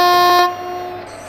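Horn of a WAG 7 electric locomotive in an Indian train simulator game on the Kerala valley route, a loud sustained multi-tone blast that cuts off and fades to quieter rumble.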